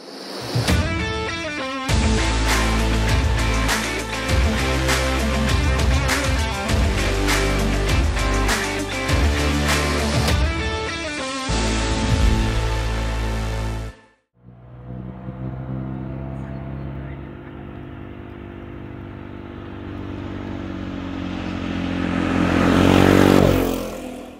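A Vespa GTS 300 scooter fitted with new 13-inch BGM rims on a test ride: steady engine drone and wind noise throughout, a brief dropout midway, then the engine rising again as it accelerates toward the end.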